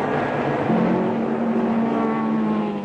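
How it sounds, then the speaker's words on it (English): 1967 Formula 1 race cars roar down the back straight at the Nürburgring during the German Grand Prix, a loud, sustained, droning engine blare with rising tones, steady and close, with no talking. "as the field roars away along the back straight to the north curve"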